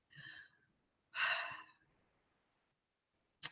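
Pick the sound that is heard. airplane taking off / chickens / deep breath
deep breath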